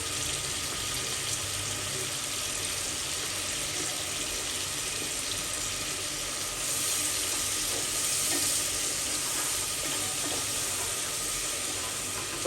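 Tomatoes and chili powder fry in hot oil for a crab curry, giving a steady soft sizzle that swells a little louder partway through.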